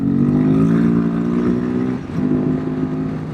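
A Royal Enfield Himalayan 452 motorcycle's engine drones steadily at low revs while riding, lugging loudly and close, with one brief dip in pitch partway through.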